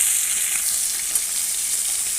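Fresh pond-caught rohu fingerlings frying in a little oil, giving a continuous bright, crackling sizzle, close up and steady throughout, with no talking.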